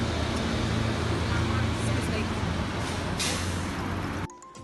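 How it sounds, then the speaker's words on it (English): Busy city street traffic with cars and buses: a dense, loud roar of engines and road noise with an air-brake hiss and voices mixed in, cutting off abruptly near the end. "So many people and so many cars and buses and things are just everywhere"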